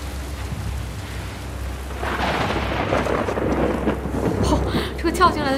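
A thunderstorm in the video game The Last of Us Part II sounds as a low rumble of thunder swelling under a steady hiss of rain, growing louder partway through.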